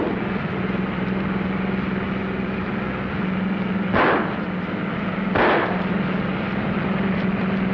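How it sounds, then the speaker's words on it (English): Gunfire in a 1940 film car chase: two sharp shots a second or so apart, heard over a loud steady engine roar. "They're shooting."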